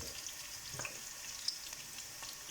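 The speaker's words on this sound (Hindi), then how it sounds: "ये हमारा प्याज ब्राउन हो रहा है" Onions brown in hot oil in a pan for beef yakhni pulao, a faint, steady sizzle with a few small pops and crackles, quiet and without talk.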